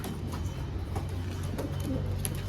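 Şam pigeons cooing: soft, low, repeated coos over a steady murmuring background hum, fairly close but faint, with no talking.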